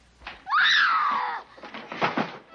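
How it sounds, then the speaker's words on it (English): A loud, piercing scream from a scene in the horror film The Exorcist, directed by William Friedkin, rises and holds for about a second. Muffled thuds and commotion follow. "Then the scream of evil."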